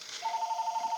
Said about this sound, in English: I'm sorry about the phone ringing like crazy.